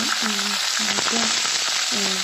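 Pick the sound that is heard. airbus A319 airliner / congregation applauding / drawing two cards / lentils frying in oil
lentils frying in oil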